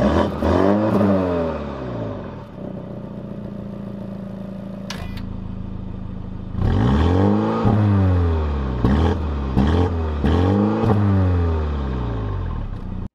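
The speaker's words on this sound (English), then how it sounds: "I did promise we'll get some revs." A BMW M135i engine revved repeatedly while stationary, loud nearby blips rising and falling, with a quieter idle stretch between two bursts of rapid throttle presses.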